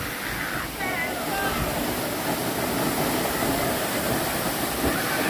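Siddhagad waterfall roars in a constant, dense wash of falling water, close and loud throughout, with a brief faint voice early on.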